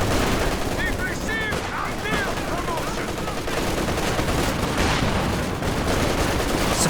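Dense, continuous gunfire from Company of Heroes 2 as shock troops engage at point-blank range, with rapid overlapping shots and bursts filling the whole stretch under a commentator's voice.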